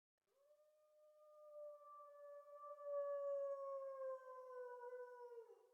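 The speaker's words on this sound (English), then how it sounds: "Is that a wolf?" A lone wolf howls in the Tsukihime video game, one long sustained cry that rises, holds steady and then falls away, clear and fairly close with no other sounds around it.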